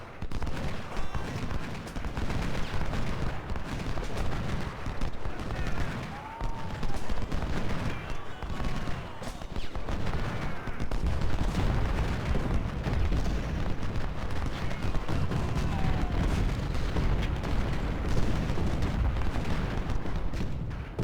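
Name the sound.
artillery firing in video game Ultimate General: Civil War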